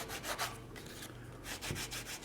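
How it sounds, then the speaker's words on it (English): Short rhythmic rubbing strokes of a sanding stick on the edge of a plastic wrap for a 1/100 scale Saturn V model, close and fairly soft, repeating in quick back-and-forth bursts with no voices. "We'll also use a sanding stick to knock that edge off just a little bit."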